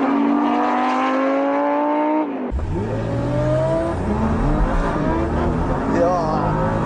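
Two supercars, a Nissan GT-R R35 and a Lamborghini Gallardo, launch from a standing start in a drag race, loud engines revving hard then roaring as they accelerate away, with rising gear-pitched whine and an announcer talking over the noise.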